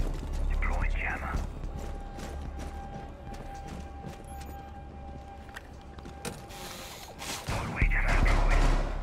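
A jammer gadget is deployed in the video game Rainbow Six Siege, a run of mechanical ratcheting clicks and clunks over low rumble, with a voice talking underneath.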